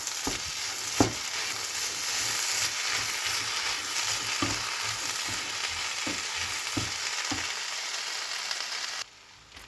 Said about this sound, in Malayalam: ഇനി അതൊന്ന് ഇളക്കിയെടുക്കാം